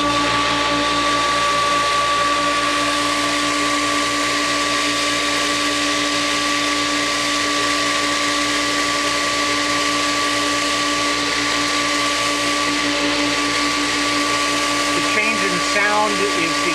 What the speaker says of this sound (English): now I'm just going to flip the booster pump for the Polaris vacuum, just to make sure that runs